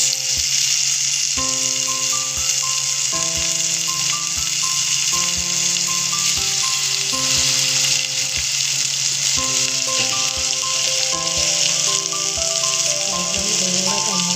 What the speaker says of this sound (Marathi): कांदा लालसर झाला की आपण त्यात टाकणार आहोत बारीक चिरलेला टॅमॅटो